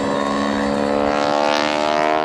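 A stunt airplane flies upside down with a wing walker standing on the wing at the 2012 Cleveland National Air Show, its engine giving a steady, loud droning hum that swells slightly as it passes.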